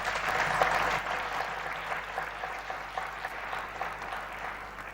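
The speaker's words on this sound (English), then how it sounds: "Please give him a round of applause." An audience at a presidential summit claps in a broad, sustained round of applause, loudest at the start and then easing to a steady patter, with no speech on top.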